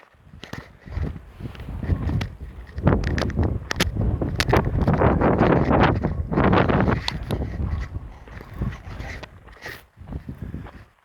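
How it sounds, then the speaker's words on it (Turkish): Gusty wind buffets the microphone in heavy, uneven rumbles and bursts, loud and close, easing briefly before gusting again. "Arkadaşlar çok acayip rüzgarlar var."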